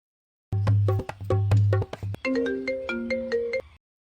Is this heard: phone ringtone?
yes